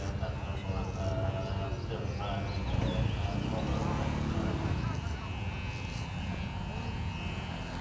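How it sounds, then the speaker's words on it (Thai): An electric hair clipper fitted with a number two guard comb buzzes steadily as it shaves hair short on top of the head, a continuous motor drone with faint voices talking nearby. "ไถลองฟันเบอร์สองสั้นไปเลยนะ"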